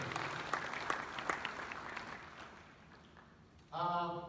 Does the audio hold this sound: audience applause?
yes